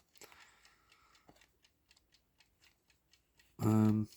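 A Smiths Sectric electric plastic alarm clock ticks faintly and steadily, then its alarm bursts out in a short, loud buzzing tone near the end.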